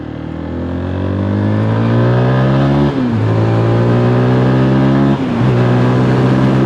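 Zontes GK350 motorcycle engine and exhaust under load while riding, a loud steady drone climbing in pitch through the gears, with two brief dips at gear changes before it rises again; no one talks.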